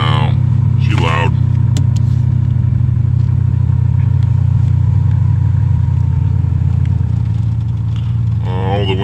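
A car with no exhaust idles loudly, a deep, steady rumble filling the whole stretch, while someone talks briefly over it near the start and again near the end.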